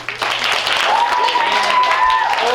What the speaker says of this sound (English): Will you also give a round of applause to Miss Sanum?